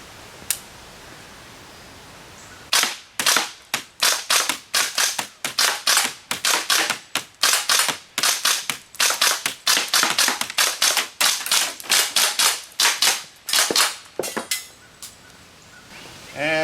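Repeated gunfire at a moving target system in a backyard, with a long run of sharp, loud shots at an irregular rapid pace, sometimes in quick pairs. The shots start after a quiet opening and continue for about twelve seconds, with no talking.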